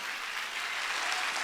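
Congregation clapping in a church during a Sunday worship service, a dense continuous burst of many hands, steady and fairly close, with no voices over it.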